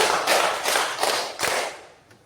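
Schoolchildren in a classroom clap in unison, about five sharp group claps in a quick even rhythm, near and fairly loud, then a quieter tail.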